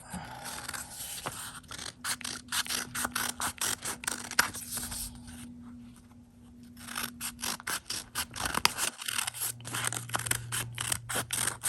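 Scissors cut out a paper face-mask template close up, a steady run of crisp snips and rasping blade scrapes in quick irregular rhythm, with a short quieter pause midway and no talking.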